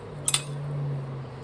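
A spoon clinks twice in quick succession on a dish of microwaved brownies, bright and close, over a low steady hum.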